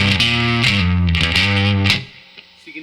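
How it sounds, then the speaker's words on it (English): Electric guitar played through a VFE Blues King drive pedal with the drive cranked and germanium clipping, giving thick, fuzzy distorted chords that ring loudly for about two seconds before dropping to a few faint, quieter notes. "when you crank up the drive a little bit, you can kind of hear more of what the clipping options are doing"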